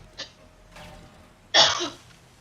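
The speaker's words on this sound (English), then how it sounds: "got some serious coughs going on." A woman coughs and clears her throat off-mic during a Darkness Falls gaming session: a short throat-clear, a muffled rasp, then one loud, harsh cough burst near the end.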